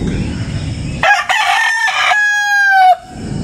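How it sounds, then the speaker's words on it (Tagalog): A fighting rooster, a four-time winning Kelso gamecock, lets out one loud, close crow with a rising start and a long drawn-out tail, heard alone against a soft outdoor background murmur. "Ito ang ating manok na panglaban."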